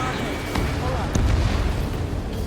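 An AA gun blown apart in the flight combat game Ace Combat 7, a muffled explosion and rumbling bursts over steady engine drone, with a sharper boom about halfway through.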